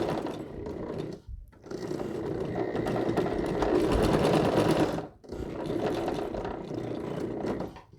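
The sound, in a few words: sewing machine stitching a quilt storage bag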